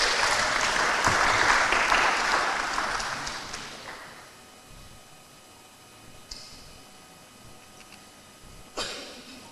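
Seminar audience at a philosophy school's anniversary event applauding a speaker, a full burst of clapping for about four seconds that fades into a quiet room, with a couple of faint knocks afterward.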